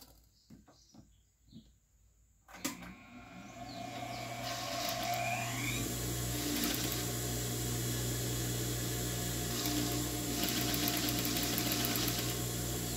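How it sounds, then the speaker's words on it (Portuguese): A domestic sewing machine stitches wavy rickrack trim onto the band edge of a cloth dish towel. After a few seconds of near silence and light handling, a steady, close motor whir with a rattling needle drive starts and runs continuously to the end. "Vamos pegar a cianinha, ó, e vamos costurar ela aqui, ó."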